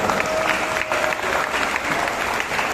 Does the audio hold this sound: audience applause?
yes